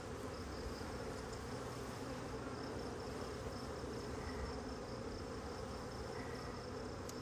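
Honey bees from a newly installed package buzzing steadily around a beehive, a dense continuous drone of many wings close by with no talking over it.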